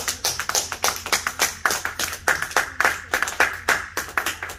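A church congregation applauds in rhythmic unison, a steady run of loud, evenly spaced claps from many hands lasting several seconds.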